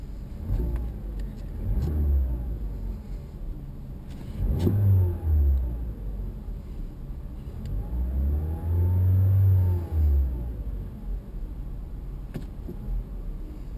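The engine of a stationary 2014 Mazda6 idles steadily and is blipped three times, each rise and fall of the revs loud and close, with no voices.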